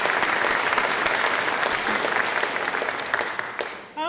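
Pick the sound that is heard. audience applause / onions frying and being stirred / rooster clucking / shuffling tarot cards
audience applause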